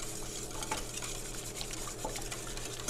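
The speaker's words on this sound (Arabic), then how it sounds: "أول شيء بدي أخفق البيض شوي" Three eggs being whisked in a bowl, a soft, fast, continuous sloshing and tapping of the whisk against the sides, quiet and close with no talking.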